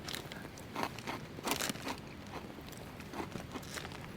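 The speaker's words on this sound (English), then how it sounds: "Flaming Hot Dill Pickle Crunchy Chips" Flaming Hot Dill Pickle crunchy chips are being chewed up close, giving continuous dense crunching and crackling with a few sharper bites and no talking.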